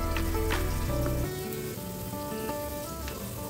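Pieces of coated fish fry in hot oil over a raised gas flame with a steady, close sizzle that crackles loudly at first, then settles into a quieter, even hiss.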